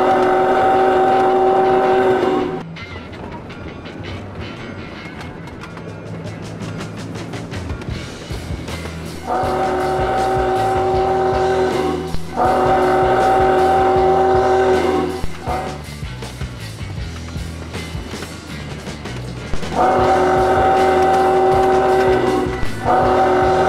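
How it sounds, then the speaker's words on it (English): Train speeding up in an animated story, a loud rolling rumble with clickety-clack of wheels on the track and repeated long horn blasts sounding near and prominent. "He accelerated the speed of his train"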